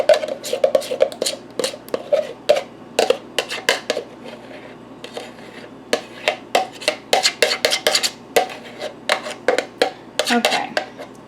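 Blackberry raspberry freezer jam being stirred by hand in a bowl, a spoon clinking and scraping against the sides in quick, irregular strokes, close and fairly loud.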